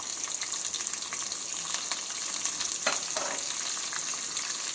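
Dried red chillies, fenugreek seeds, mustard seeds, green chillies, curry leaves and onions crackle and sizzle in hot oil for sambar, a steady bright hiss with a few sharper pops near the middle, no voices.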